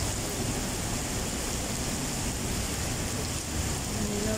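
Heavy rain pouring outdoors in Tseung Kwan O, Hong Kong, a dense, steady hiss that fills the whole stretch without letup. It is loud and close, and there is no talking.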